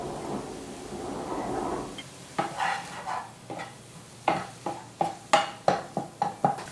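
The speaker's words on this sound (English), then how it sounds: "I like to saute my onions and mushrooms first. I'm on a medium-high heat." Onions and mushrooms sauteing in a pan over medium-high heat, a soft sizzle under a run of sharp spatula scrapes and clacks against the pan that grow louder and more rhythmic toward the end, with no talking.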